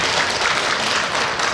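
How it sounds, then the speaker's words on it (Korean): Congregation applauding during a Christmas Day Sunday service in a Korean church, right after the choir's hymn: dense, steady clapping from many hands that fills the room evenly throughout. "하나님께 영광의 박수를"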